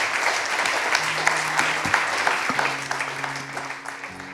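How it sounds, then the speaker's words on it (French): Audience applause at a French association conference, dense steady clapping from a crowd with a faint tonal hum underneath, continuing at even loudness through the whole stretch. "je propose qu'on les applaudisse très fort"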